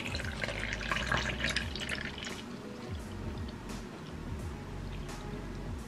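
Shaken matcha oat and pumpkin spice boba drinks are poured, liquid splashing and trickling into a cup, louder at first then settling into softer dribbles and drips, close and alone.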